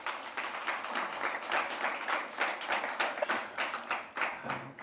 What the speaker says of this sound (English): chairperson a round of applause, a human rights applause.